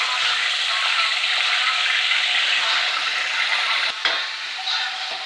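Pig liver and heart frying in hot oil, cooked country style for a Jamaican breakfast: a steady, loud, close sizzle that runs unbroken, with a brief clatter near the end.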